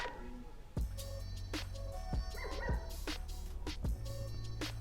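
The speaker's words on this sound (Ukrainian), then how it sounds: "Не думаю, що сусідська вівчарка припинить лаяти найближчим часом" A large shepherd dog barks repeatedly in sharp, spaced bursts, fairly close, over a steady low background hum.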